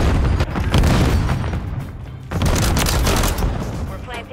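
Shooter game gunfire from a gun glitch in an online lobby crackles in loud, dense bursts with booming impacts, pausing briefly before another sustained volley; a voice talks over parts of it.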